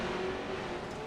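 Pro 2 Lite race trucks accelerating uphill in a drag race, a loud continuous engine roar holding a steady high pitch with no voices.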